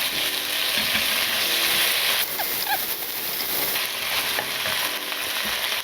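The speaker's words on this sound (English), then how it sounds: "We're gonna throw in the tomatoes." Tomatoes tossed into a hot frying pan of adobong pusit (squid adobo), giving a steady, close sizzle and frying hiss with light stirring clatter throughout.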